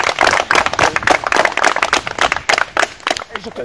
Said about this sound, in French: On peut l'applaudir parce que. Merci. Bravo.